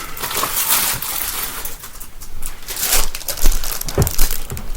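Paper cross-stitch pattern being handled, with close, loud crinkling and rustling in irregular bursts and no talking.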